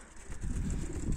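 A pigeon coos nearby, a soft, low, throaty warble that swells after a brief quieter start.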